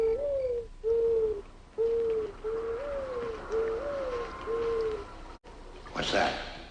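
A series of low, hollow hoots in a steady rhythm, about eight calls close together, a voice imitating an owl's hoot, with a brief rustle at the end.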